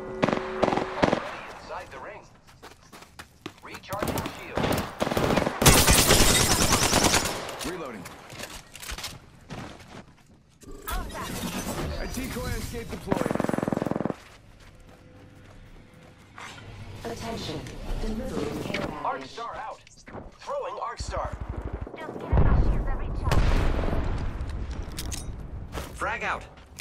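Gunfire rattles in a battle in the video game Apex Legends, with bursts of rapid shots and bangs coming in loud clusters separated by brief lulls, while game voice lines speak over parts of it.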